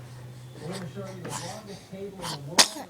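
A single sharp sneeze bursts out near the end, brief and loud over a steady background of people talking in a television news setting.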